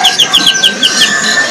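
A Sumatran ashy drongo sings a rapid series of bright, high, repeated whistled notes, loud and close, about six quick phrases in a row with steady background noise beneath.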